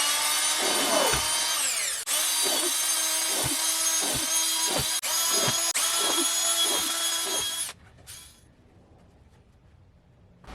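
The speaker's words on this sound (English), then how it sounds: "use this standard drill with this 32mm drill bit on reverse" A standard power drill fitted with a 32mm bit runs in reverse against wood, whining steadily at high pitch with repeated brief dips and knocks as it bites, then cuts out near the end leaving quiet background.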